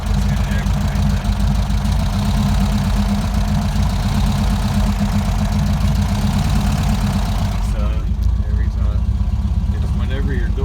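The engine of a 1971 VW Super Beetle with an auto stick clutch runs steadily in a loud close idle while the shifter is struck, with a brief shift in tone near the end and speech in the background.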